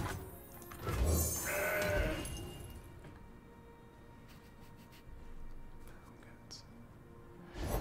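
A couple of goat bleats sound out in the card game Legends of Runeterra from a Mountain Goats card, followed by quieter clicks and soft background noise with voices talking.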